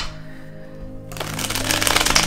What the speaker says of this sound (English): So I'm gonna have to shuffle it one more time here.